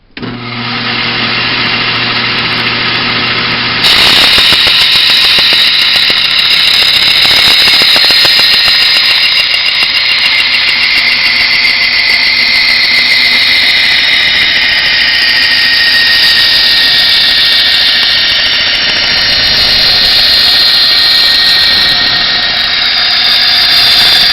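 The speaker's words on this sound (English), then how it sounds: "I'm going to try to hold this and show you how you can cut this aluminum with this little bandsaw" A Craftsman 12-inch bandsaw fitted with a metal blade cuts aluminum, starting with a steady motor hum and then rising into a loud, continuous high-pitched grinding whine that holds for about twenty seconds.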